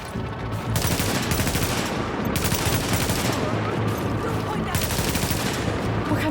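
Dense, continuous gunfire from The Division rattles loud and close in sustained bursts, with brief lulls between volleys and shouted voices faintly underneath.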